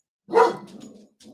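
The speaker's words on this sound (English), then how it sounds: "The neighbor dog is barking, so he has to bark" A single loud, close dog bark with a short trailing growl, then a brief softer follow-up sound.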